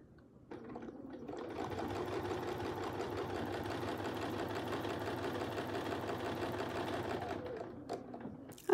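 A sewing machine stitches a Westalee Curly Q ruler design in one continuous, even run of about seven seconds, starting and stopping cleanly with nothing else over it.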